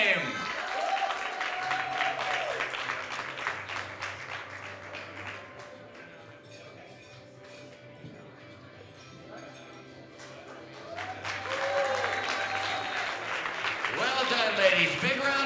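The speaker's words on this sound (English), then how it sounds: "Big round of applause for our..." Audience applause at a regional powerlifting championship, dense clapping that swells, eases in the middle and builds again, mixed with a voice over the PA and crowd noise.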